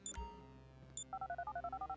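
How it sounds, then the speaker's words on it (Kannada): A phone dials in the video game GTA 5: two faint early beeps, then a quick steady run of about a dozen electronic tones, quiet and close, over a low hum with no voices. "ಓಕೆ, ಫೋನ್ ಮಾಡ್ತಾಯಿದ್ದೀನಿ."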